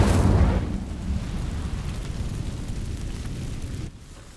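An Incendio fire spell sets dry vines alight in Hogwarts Legacy, opening with a loud roaring burst that settles into a sustained crackling, rumbling blaze and then cuts off abruptly near the end.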